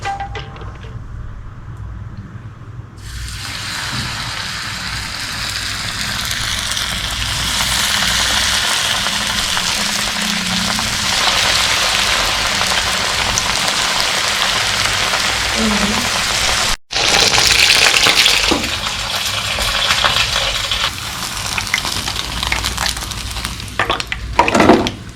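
Popcorn chicken dropped into hot oil hisses and sizzles loudly and steadily for a long stretch, a rain-like crackle of frying that swells after the pieces go in and keeps bubbling close by.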